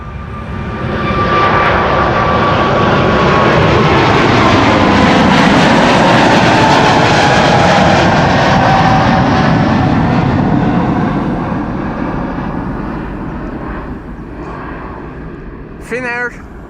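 A Finnair jet in oneworld livery departs Schiphol runway 24, building into a loud, sustained engine roar with a falling tonal whine, then slowly fading as it climbs away; a brief voice cuts in right at the end.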